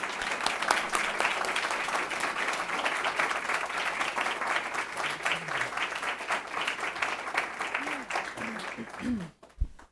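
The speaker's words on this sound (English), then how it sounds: "Can we give them, please, a round of applause?" Sustained applause from a school board meeting audience, steady dense clapping for about nine seconds before tapering off abruptly, with faint voices underneath.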